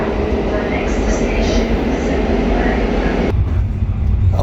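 A train rumbles along steadily from inside a passenger carriage in Italy, a dense, continuous roar of wheels and motion with a sudden shift in tone near the end.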